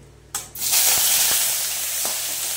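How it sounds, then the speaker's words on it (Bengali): Chopped onion and asafoetida hit hot oil, a sudden loud burst of sizzling that settles into a steady bright hiss, with a few faint clinks of a utensil underneath. "দিয়ে দেবো হিং ফোড়ন, দিয়ে দেবো কুচিয়ে রাখা পেঁয়াজ"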